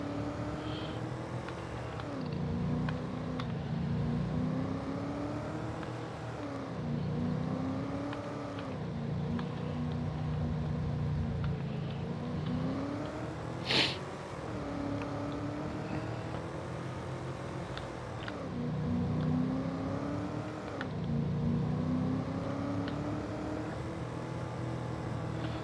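Car engine in the video game Farming Simulator 22, a fast vehicle that turns poorly: a steady droning motor rises and falls in pitch as it speeds up and eases off, with one sharp brief noise partway through.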